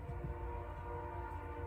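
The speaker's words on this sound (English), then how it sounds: "I hear the train whistle." A passing train's whistle drifts in from far off in a valley, a faint sustained tonal blare over a low rumbling rail background, with no talk.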